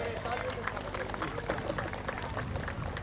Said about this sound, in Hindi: पहले तो जोरदार तालियां उनके लिए